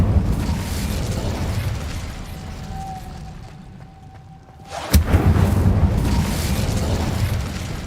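Incendio fire spell in the video game Hogwarts Legacy, a sudden loud blast and burst of flame striking after a quieter stretch, followed by a sustained roaring rumble, with no talk.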